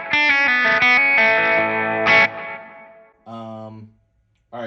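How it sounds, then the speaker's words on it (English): An electric guitar fitted with Pete Flynn PAF pickups rings out in a clean tone with no effects: a few strummed chords and sustained notes that let ring, then a brief pause before a last chord. "I got the Pete Flynn PAF pickups installed. This is my clean tone for reference with nothing."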